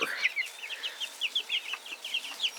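A flock of chickens and roosters, including a large barred rock, clucks in a quick run of short, bright calls that repeat rhythmically and fairly close, with no talk.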